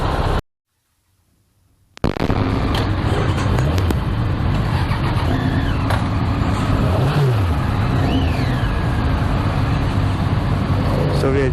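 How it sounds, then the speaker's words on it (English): Dense early-morning road traffic near a Triumph showroom on the way to Vashi, with close engines droning loudly and honks cutting through after a brief hush at the start. A voice talks over it. "Need to get out of this traffic where the showroom is just here."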